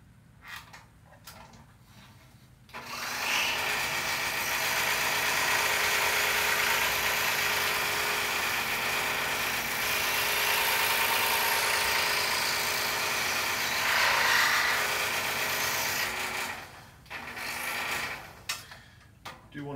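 Scroll saw cutting interior openings in the letters A and R of a wooden puzzle, a steady buzzing mechanical drone running for about fourteen seconds between quieter stretches at the start and end.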